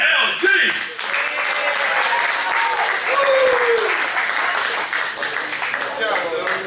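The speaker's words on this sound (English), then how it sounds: "Keep that applause going for Zoe." Comedy club audience claps steadily for a comedian, a dense wash of applause lasting several seconds while a host's voice calls out over it.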